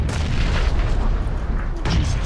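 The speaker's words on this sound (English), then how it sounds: "Jesus, where are those grenades coming from?" Grenades go off in PUBG as heavy, continuous booms, with a sharper burst of blast noise near the end. Squad voices can be heard faintly underneath the explosions.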